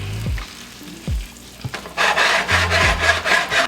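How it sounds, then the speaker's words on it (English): Half a cup of orange juice stirred into a hot frying pan for orange chicken sauce, a few low knocks and scrapes of a utensil at first, then a loud bubbling sizzle swelling up, no speech. "Stir that up."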